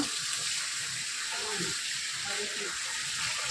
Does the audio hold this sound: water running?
yes